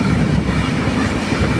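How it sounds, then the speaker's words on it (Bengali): A train runs along the tracks with a dense rumbling roar and faint rhythmic clatter, heard close from on board and steady across the short stretch, without talk. "ট্রেন চলছে"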